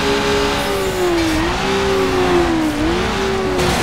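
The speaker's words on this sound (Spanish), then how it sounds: "el sonido de este motor rotatorio no me termina de convencer" A rotary-engine car revs steadily in a video game (Need for Speed Underground 2) with a smooth, rising and falling whine, loud and close, with no voices.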